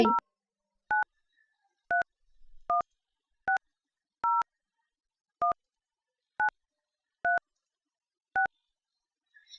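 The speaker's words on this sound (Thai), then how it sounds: "ในการโทรออกท่านสามารถโทรออกได้ โดยการกดหมายเลขที่ต้องการติดต่อ จากโปรแกรมโทรศัพท์ หรือกดจากแป้นพิมพ์คอมพิวเตอร์ได้" Touch-tone DTMF beeps from a VoIP softphone as a number is dialed, nine short, clean tones in an even, unhurried rhythm against silence.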